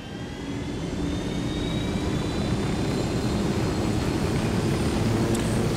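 A helicopter in Ghost Recon Wildlands gives a constant loud rotor and engine drone, steady and unbroken from start to finish, with no speech.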